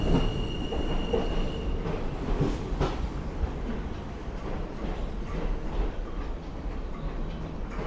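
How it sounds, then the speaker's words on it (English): An M subway train pulls out of the last stop in Middle Village, Queens, a steady low rumble with clicking wheels and a thin, high squeal early on, heard from the platform with no speech. "It's a train pulling out to go back into the city."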